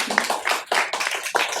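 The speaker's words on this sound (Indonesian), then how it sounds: "Kita tepuk tangan dulu." A few people clap briefly during a lifestyle podcast, a short run of close, sharp handclaps in uneven bursts lasting barely more than a second.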